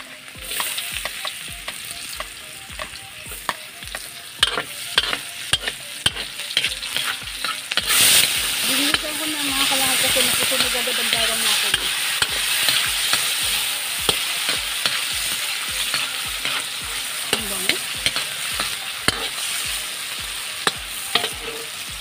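Garlic, onions and tomatoes sauté in a pan with a continuous hiss of sizzling, punctuated by rapid, regular clicks of a utensil stirring and scraping.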